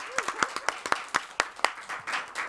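TV talk show studio audience applauding, a burst of loud individual claps in a quick, uneven rhythm that thins into a softer patter near the end.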